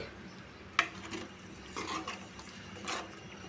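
A spoon stirs tamarind juice into a dried fish curry in a pot, with a sharp clink against the vessel followed by soft scraping and sloshing strokes, quiet and close.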